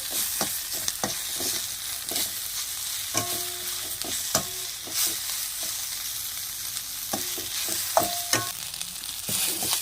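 Sesame seeds frying in a pan for a radish chutney, with a steady close sizzle throughout and frequent clicking scrapes and taps as a utensil stirs them.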